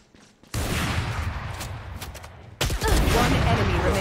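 Gunfire in a first-person tactical shooter game, a loud close burst of rapid shots that cuts in abruptly, drops slightly, then surges again, with game effects layered over it.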